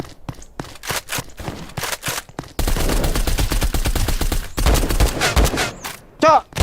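M4 rifle gunfire in a Roblox shooter game, bursts of rapid automatic shots and a sustained stretch of loud continuous fire, with brief pauses between volleys.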